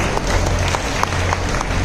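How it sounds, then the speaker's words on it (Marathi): Audience claps together in a steady, dense burst of applause at a festive community celebration, loud and close. "त्यांच्यासाठी एकदा जोरदार टाळ्या होत्या."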